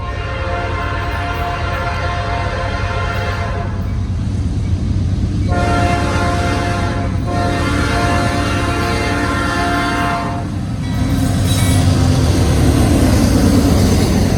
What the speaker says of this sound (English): The train coming up the hill again.